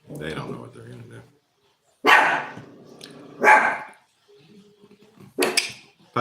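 Puppies bark and yip close by in a home, a few loud bursts separated by pauses, mixed with a person talking in between.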